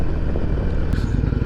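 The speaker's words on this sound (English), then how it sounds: "I'm on a motorcycle." A motorcycle engine drones steadily up close, with heavy low rumble and rushing wind.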